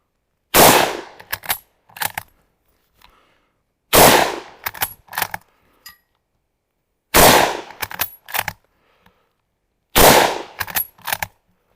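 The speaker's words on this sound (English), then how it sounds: "I'll fire the last stripper clip of rounds we have" A Mauser-Vergueiro 1904/39 bolt-action rifle fires four loud, close shots a few seconds apart, each sharp report followed by the clack of the bolt being cycled, with no talking.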